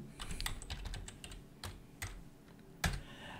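Quiet, close key clicks on a computer keyboard in a short irregular burst of typing, ending with one sharper, heavier keystroke.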